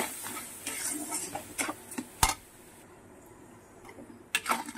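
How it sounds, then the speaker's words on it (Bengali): Raw mango and sugar stirred in a hot, dry pan with no oil: irregular scraping and tapping of a spoon against metal, with one sharp knock midway and a faint background hiss. "আর এটা চিনি আর আমটাকে সমানে আমি নাড়তে থাকবো।"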